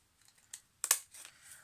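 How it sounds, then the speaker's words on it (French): Pinking shears snip around paper in a few crisp cuts, with small soft rustles before one sharp, louder crunch and lighter clicks after in a quiet room. "vous prenez des ciseaux cranteurs comme ça. Et puis, ce que vous venez faire tout le tour."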